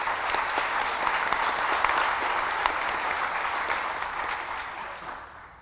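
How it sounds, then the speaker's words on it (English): A round of applause for the staff at the Colorado Book Awards celebration, a steady crowd of hands clapping at moderate volume, sustained evenly before tapering off at the very end. "please give a round of applause to our hardworking staff"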